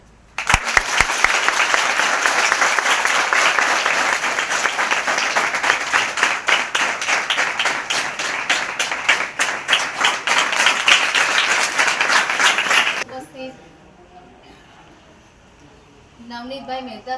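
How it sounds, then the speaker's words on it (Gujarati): Audience applause at a school ceremony honouring donors who funded a water-heating boiler, shed and platforms: dense, sustained clapping for about thirteen seconds, then it stops abruptly, leaving quiet room sound with faint murmuring. "તાળીઓ."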